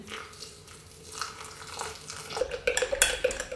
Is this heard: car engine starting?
no